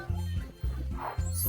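A dog sound from a Wednesday Addams video game: three short, tonal, bark-like bursts in quick succession, fairly close and clear, with no talking over them.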